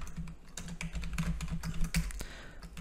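Quiet, rapid typing on a computer keyboard, a close run of irregular light key clicks with no talking.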